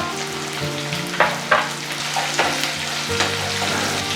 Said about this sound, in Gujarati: અહીં દરેક ગુંદા તેલમાં સારી રીતે સાતળાઈ જાય છે